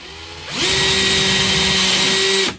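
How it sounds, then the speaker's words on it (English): Power drill fitted with a step bit cleaning up holes in a guitar body: a loud, close, steady whine spins up sharply, holds at constant pitch for about two seconds, then cuts off, with no talk. "I'm going to use this step bit, and I'm just going to put it in my drill"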